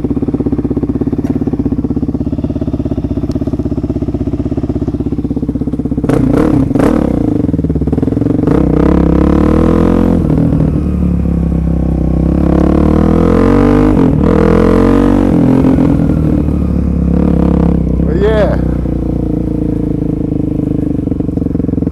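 A motorcycle engine idling and running loud and close the whole time, with a steady rumble, brief throttle blips and some rattling clatter, and no voices.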